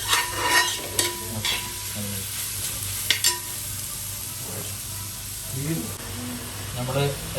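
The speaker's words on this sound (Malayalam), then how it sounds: "ഫ്രൈ ചെയ്യാം" Chicken masala frying and being stirred in a pan for pidi chicken, cooked at a friend's house: steady close sizzling with repeated scraping stir strokes, while people talk intermittently over it.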